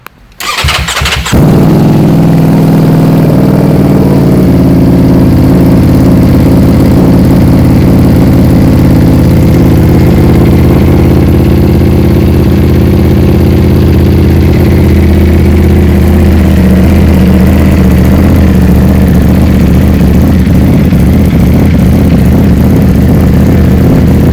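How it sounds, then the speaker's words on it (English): A 2018 BMW S1000RR with Austin Racing slip-on exhaust canisters cranks and fires up, then holds a loud, rumbling idle close by for over twenty seconds, with no talking. "I think we can agree that this bike sounds awesome with the Austin Racing slip-on canisters on the bike."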